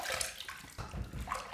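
Running water from a sink tap splashes as a shaving brush is rinsed, a close, continuous rushing and gurgling with brief shifts as the brush moves through the stream.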